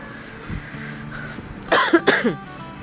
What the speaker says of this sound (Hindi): मेरा गला जो है ना मुसलसल मुझे थोड़ी सी खांसी आ रही है